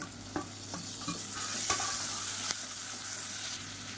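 Onions sauté in a pan for drumstick paya, giving a continuous close sizzle with occasional soft scrapes and taps of a spoon stirring.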